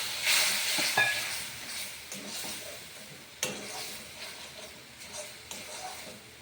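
Spice paste sautéing with a little added water in a pan for a cauliflower and paneer vegetable dish, a soft steady sizzle. It opens with a brief louder hiss, and occasional stirring clicks follow.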